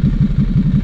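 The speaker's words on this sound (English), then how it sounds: "Oh, nice and easy to get into neutral." 2012 Ducati Hypermotard 796 with Termignoni exhaust idling after being shifted into neutral, a loud close, lumpy low engine throb pulsing in an even rhythm.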